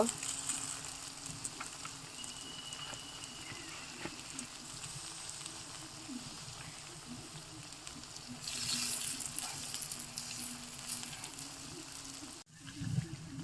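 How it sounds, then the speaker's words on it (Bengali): Water lily flower fritters (shapla bora) frying in batter in a pan, a steady close sizzle with soft crackle running throughout, briefly cutting off near the end. "মাঝের এই বড়াগুলো ভেজে নেওয়া কমপ্লিট।"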